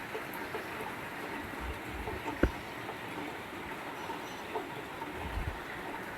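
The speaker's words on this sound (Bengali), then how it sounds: "বৃষ্টি হচ্ছে কালকে রাতের থেকেই বৃষ্টি হচ্ছে" Steady rain falls through a night into the day, a soft continuous patter and wash heard alone with one brief sharp knock partway through.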